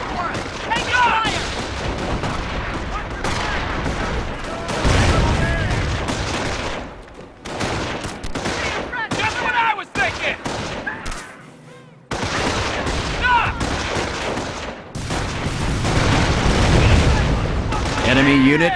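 Dense, loud gunfire and explosions fill a World War II battle at Carentan in the game Company of Heroes, with voices shouting orders over bursts of rifle and machine-gun fire and deep booms.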